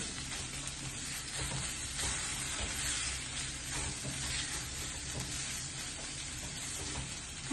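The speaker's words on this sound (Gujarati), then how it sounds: "લીલા મરચાં અને અદરકની પેસ્ટ નાખું છું, એને પણ સાતરી લઈશું." Green chili and ginger paste sautéing in a pan for onion kachori filling, a steady loud sizzle and hiss with light stirring scrapes throughout, no voices.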